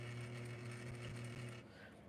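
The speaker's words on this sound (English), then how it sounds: "we're going to sew right through that top waist part" A sewing machine stitches through the waist of a bias-cut dress, giving a steady, fast mechanical hum with a low droning tone. It runs quietly for about a second and a half, then slows and stops.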